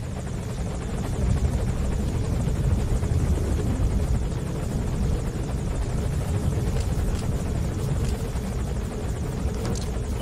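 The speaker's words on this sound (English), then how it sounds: "looks like the helicopter has moved into a holding pattern here" A helicopter circles overhead in Metal Gear Solid V at night, its steady, loud rotor whir and engine drone filling the whole stretch without a break.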